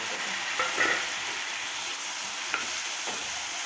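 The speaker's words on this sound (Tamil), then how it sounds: "இதையும் நல்லா தொக்கா அளவுக்கு நல்லா வதக்கிடலாம்" Browned onion and tomato sautéing in a pan for an egg curry: a soft, steady sizzle with a few scraping stirs of a spoon, close but fairly quiet, with no voices.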